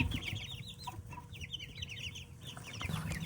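Young chicks of several breeds, crested cream legbars, wheaten Americaunas and copper Marans, in a brooder give a dense, continuous chorus of high peeping and soft clucks, close and unbroken under a low background rumble.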